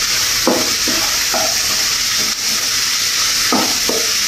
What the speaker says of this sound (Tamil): இந்த டைமில் நாம் கட் பண்ணி வைக்க பெரிய வெங்காயத்தை சேர்த்துவோம். சேர்த்து நல்லா மிக்ஸ் பண்ணிடுவோம்.